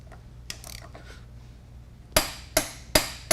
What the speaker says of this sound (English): we're going to tighten it up with the torque wrench